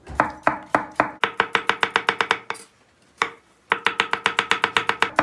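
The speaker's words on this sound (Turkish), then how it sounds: "Patateslerimizi 3'e 4'e böldükten sonra bıçakla şöyle ince ince doğrayacağız" Rapid, steady knife chops on a cutting board as potatoes are thinly sliced, a quick run of sharp taps, a brief pause, then another even burst of chopping.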